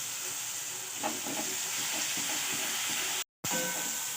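Onion and other ingredients for brinjal bharit fry in a pan with a steady close sizzle and hiss, a few stirring clicks, and a brief dropout near the end.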